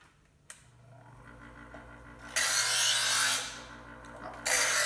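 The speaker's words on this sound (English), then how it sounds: "My knife is not entirely sharp, so I'm just going to sharpen it" A kitchen knife is sharpened in long rasping strokes, two loud bursts of grinding scrape standing out over a low steady hum, close and with no talking.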